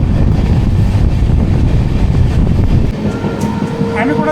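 Rumble and rattle of a moving passenger train heard from inside a coach on a long-distance family journey from Pune, loud and steady throughout, easing slightly toward the end with faint higher tones appearing.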